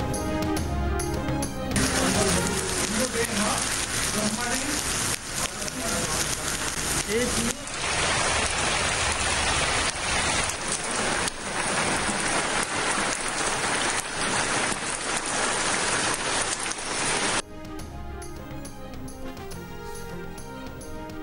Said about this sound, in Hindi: गवादर जिवनी समेत मुख्तलिफ इलाकों में बारिश